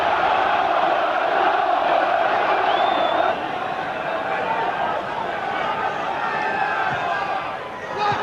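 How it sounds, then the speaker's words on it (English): Stadium crowd roaring steadily behind Middlesbrough as they win a corner against Manchester City in a 1991-92 cup third-round football match, a dense sustained swell that dips slightly midway, with a commentator talking over it. "Crowd really getting behind them now."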